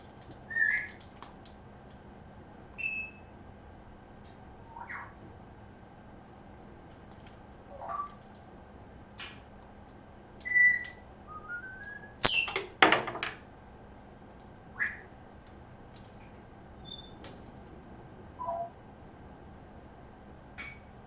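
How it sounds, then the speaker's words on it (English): A captive bird gives scattered whistles and chirps, short clear notes spaced several seconds apart against a quiet room, with a brief cluster of louder calls midway. "Is that bird loud?"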